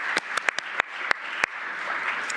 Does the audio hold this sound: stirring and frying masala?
no